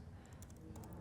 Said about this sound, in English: I'm typing reboot device